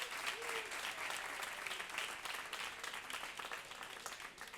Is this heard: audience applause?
yes